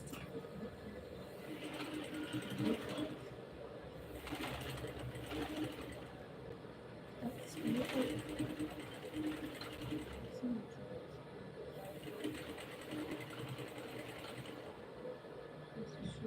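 A sewing machine stitches during a zipper repair, quiet runs of mechanical whirring that start and stop in bursts, with some soft background voices.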